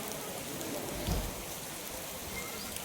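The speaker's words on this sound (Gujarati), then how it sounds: "આજે મસ્ત મજાનો વરસાદ છે" Rain falls steadily during a heavy monsoon downpour, a soft continuous hiss with a faint low rumble, close by and alone without talk.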